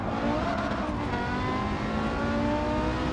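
A Porsche engine revs steadily in Gran Turismo 7, a loud, continuous drone with rising tonal harmonics and a faint hint of tire noise, heard alone without talk.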